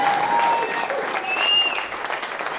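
Applause from an audience at a scholarship dinner, dense steady clapping at close range with faint whistles and voices mixed in.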